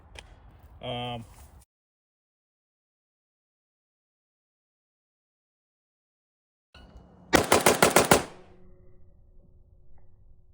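An AK rifle fitted with a muzzle brake fires a rapid string of about six loud shots at an outdoor range, preceded by a short burst, with long silence in between.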